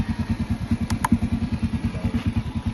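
A motorcycle engine idles with a steady, fast low chugging pulse close by, a couple of brief clicks above it and no talk.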